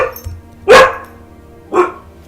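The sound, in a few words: dogs barking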